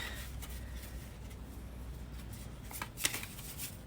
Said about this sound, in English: I need to shuffle more.